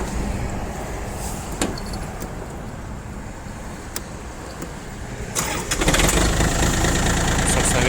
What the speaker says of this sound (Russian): Давайте трактор запустим.